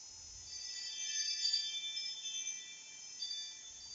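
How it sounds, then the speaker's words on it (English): Jet engine spooling up for a vertical takeoff in the DCS World flight simulator: a steady high-pitched whine that holds from start to end, swelling gently in the middle, with no talk over it. "power should be coming up here momentarily for our vertical takeoff"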